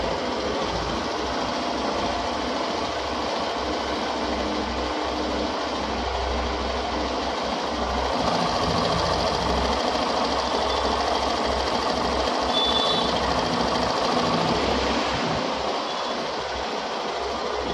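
Hero Glamour BS6 motorcycle engine idling after start-up, a steady, close mechanical ticking and whirring with a low, even rhythm, running alone without talk.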